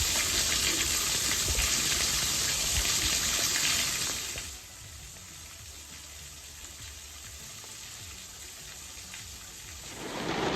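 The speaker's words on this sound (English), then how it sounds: "It's a pretty nice little waterfall. I'd say it's probably about a 20 foot drop," Small waterfall with about a 20 foot drop on a nature sanctuary trail, a loud, steady rush of falling water that drops sharply to a softer hiss midway, then swells again at the end.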